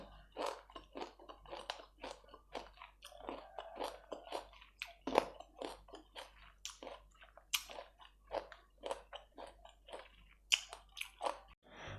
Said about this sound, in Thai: ทุกคนมากินมะม่วงกันนี่นะคะ